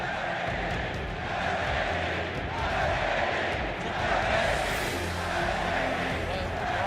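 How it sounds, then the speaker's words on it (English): A stadium crowd at the 2016 League of Legends World Championship grand final roars and chants for SKT after the win, a dense, steady wall of massed voices swelling slightly over several seconds. "the crowd erupting in chants for SKT"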